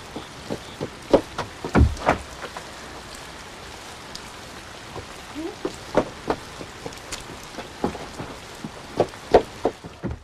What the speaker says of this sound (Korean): 빨래를 한 날 야속하게 비가 내리고